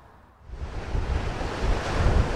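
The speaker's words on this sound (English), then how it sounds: "As you can probably hear, it's very windy" Strong wind buffets the microphone on Swanage Beach, a loud, rushing roar that rises sharply after a brief quiet moment and then holds steady, with surf mixed in.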